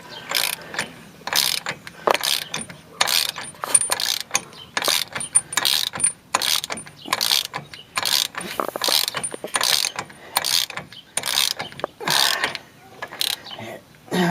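Ratchet wrench snugging the bolts on a lower control arm of a 1997 Chevrolet Suburban, a rapid run of close, dry clicking bursts in steady repeated strokes with brief pauses between them.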